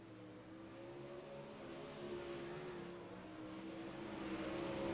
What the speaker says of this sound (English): Rolling out onto the racetrack in the 127 car, it's going to be Blake Majulis